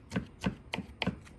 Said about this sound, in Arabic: هناخد كده الطماطم هنقطعها كده